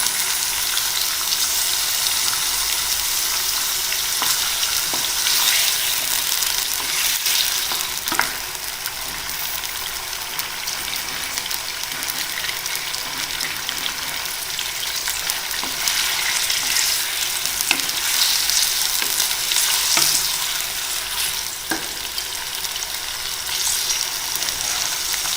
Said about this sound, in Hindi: दरमियानी आंच पे हमें इसका पानी सुखाना है गोश्त का।